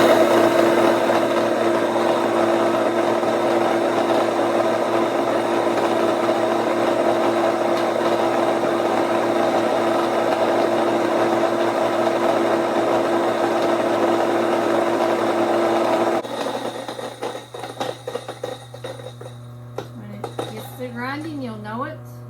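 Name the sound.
electric grain mill grinding grain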